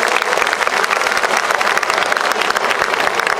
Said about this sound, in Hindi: एक बार जोरदार ताली होनी चाहिए सारे बच्चों के परफॉर्मेंसेस के लिए